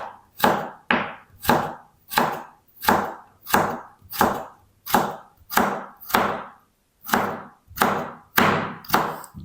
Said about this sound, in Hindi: इसकी ना हम इस तरह से जूलियन में कटिंग करनी है आलू की